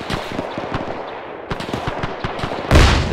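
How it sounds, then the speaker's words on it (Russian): Rapid gunfire during a chaotic firefight in Arma 3: dense volleys of sharp shots, some close and some distant, with a louder, heavier burst near the end. "Человек у соседей стреляет."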